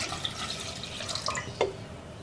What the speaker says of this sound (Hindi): इसमें पानी डाल लेंगे करीब आधी प्याली